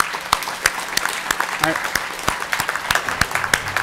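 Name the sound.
audience clapping at hackathon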